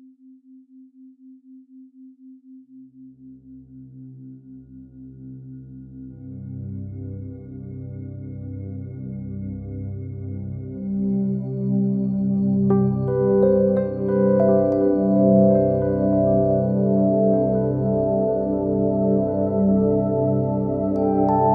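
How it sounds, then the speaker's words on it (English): Healing music layered with brainwave entrainment tones in the deep theta range: a pulsing low tone opens alone, then sustained soft harmonic music gradually swells and thickens, loud and continuous without speech. "combining the healing music with the brainwave entrainment tones in the deep theta range"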